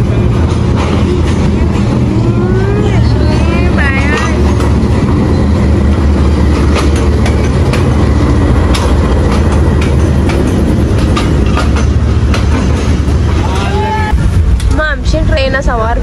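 Train running on rails near Karachi, a steady loud rumble with rhythmic clatter throughout, under ongoing talk and chatter from passengers close by.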